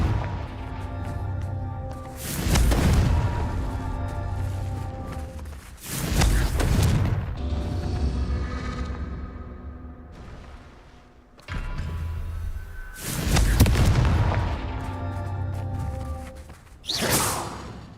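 Confringo fire spells in Hogwarts Legacy go off as a run of loud, close whooshing blasts. About five booming explosions with swishing tails land several seconds apart. No voice is heard over them.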